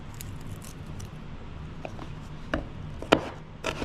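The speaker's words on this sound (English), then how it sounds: "I separate the garlic from its shell. And I give it a nice hit to the knife." A knife whacks garlic cloves on a kitchen cutting board to loosen the shells, giving a few soft thuds and taps, one sharper knock near the end, over low background noise.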